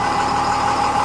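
A 1999 Dodge Ram Cummins turbo diesel 4x4 with 223,365 km runs with a loud, steady engine drone and rattle, close and continuous through the brief moment with no talk.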